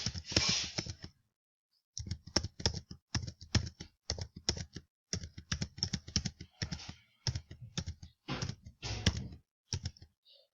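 Computer keyboard typing capital letters into a spreadsheet column, a long series of distinct close key presses in short irregular bursts, each followed by brief silences.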